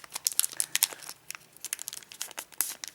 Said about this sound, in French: ce que je vais faire, ça sera plus simple avec ma paire de ciseaux